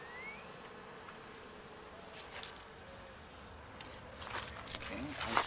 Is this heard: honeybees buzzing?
yes